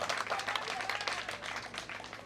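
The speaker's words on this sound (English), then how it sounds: "A round of applause for that." A crowd at an outdoor political gathering claps in a busy, uneven patter of many hands, moderately loud and continuous with no talking over it.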